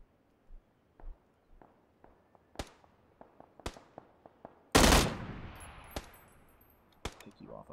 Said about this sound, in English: I can hear Ghost's gun firing from HDA